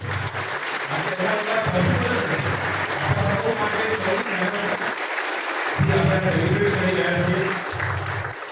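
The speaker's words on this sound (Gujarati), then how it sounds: "તો એક જોરદાર તાળીઓ થઈ જાય આપણા સૌ માટે।" A crowd applauds at an outdoor International Whale Shark Day awareness event at Mangrol port, with steady clapping that swells and pauses and a voice over a loudspeaker.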